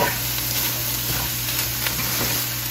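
A whole bag of vegetables sizzling and frying in a hot pan for an egg roll in a bowl, a steady, close crackling hiss with faint stirring.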